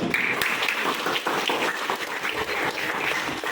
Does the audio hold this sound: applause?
yes